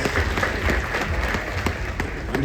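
A convention audience at a closing ceremony breaks into steady, dense applause, many hands clapping together with faint crowd noise throughout.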